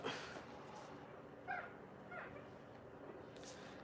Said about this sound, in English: some of these dogs is hard to handle